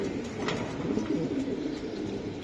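Long-distance racing pigeons coo softly at a pigeon sale, a few low throaty burbling calls close by over faint background noise.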